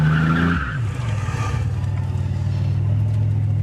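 A turbocharged Buick launches hard, its tires squealing loudly over a steady low engine drone throughout, close and continuous with no talk.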